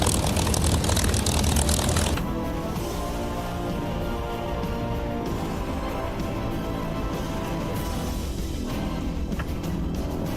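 A propeller aircraft drones overhead, a loud steady engine hum with a harsh, noisy burst at the start that settles into a sustained throbbing tone, no talk.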